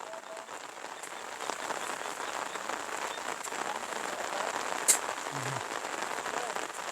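Steady rain falls all day, a dense even hiss of drops on surfaces that holds at the same level throughout, with one brief sharp tick partway through.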